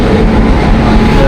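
Train noise at Chiplun station as the Hazrat Nizamuddin express arrives: a steady, loud low rumble of rail cars fills the whole stretch, with a crowded platform around it.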